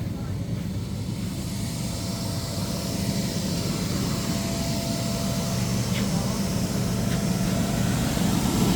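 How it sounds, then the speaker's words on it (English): An inflator blower runs for a custom indoor bounce house in a residential garage, giving a steady, close, continuous roaring rush that stays even throughout with no breaks. "Yeah, blower."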